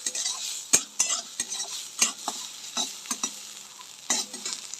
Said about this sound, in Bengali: থোড়টা প্রায় ভাজা হয়ে গেছে, হলুদ লবণ দিয়ে ভেজে নিয়েছি থোড়টা